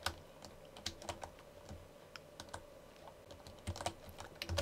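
Computer keyboard typing while playing Skyrim, quiet irregular clusters of key clacks with short pauses between bursts and a louder flurry near the end.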